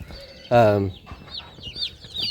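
Young Cornish Cross meat chicks peep in a box with high, rapid chirps, while a louder, lower fowl-like call sounds briefly near the start.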